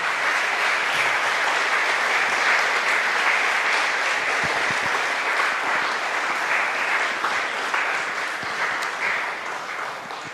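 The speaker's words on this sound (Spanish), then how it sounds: "Démosle palmas al Señor" A church congregation claps together for about ten seconds during a worship service, a steady, dense wash of applause with no voices standing out above it.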